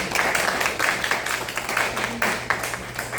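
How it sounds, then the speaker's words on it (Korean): Audience applauding at a lecture or class session, a steady wash of many hands clapping that continues evenly for a few seconds with a faint low hum beneath. "여러분 큰 박수 한번 보내주시기"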